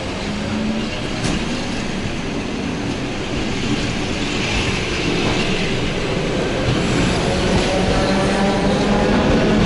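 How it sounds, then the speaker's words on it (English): A Russian commuter train bound for Moscow from Podlipki-Dachnye platform in Korolyov runs with a steady, dense roar of wheels and car rumble, loud and constant throughout, no voices. "And the train goes to Moscow."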